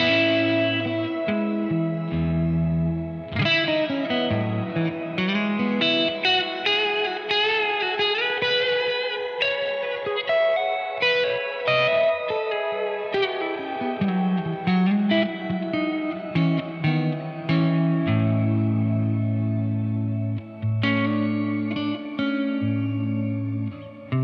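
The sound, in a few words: guitar through Keeley Hydra pedal shimmer reverb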